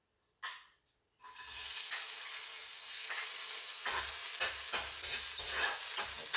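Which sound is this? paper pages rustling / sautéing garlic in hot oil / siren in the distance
sautéing garlic in hot oil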